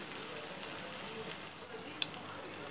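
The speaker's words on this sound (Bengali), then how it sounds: "চিকেনটা আমি এর মধ্যে দিয়ে দিচ্ছি।" Yogurt-marinated chicken for a Bengali chicken rezala sizzles softly as it goes into the pan, a steady close frying hiss with one sharp click near the end and no talking.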